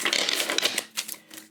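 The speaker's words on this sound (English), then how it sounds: "Okay, that was a terrible shuffle." Tarot cards riffle-shuffled by hand, a quick dense burst of papery flicks close to the microphone that trails off into a few softer taps.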